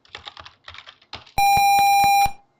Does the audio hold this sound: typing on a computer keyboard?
yes